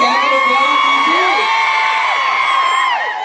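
A crowd at the trailer event for the Telugu film Eagle starring Ravi Teja cheers and shouts nonstop, loud and dense, with whoops and whistles rising over the steady roar.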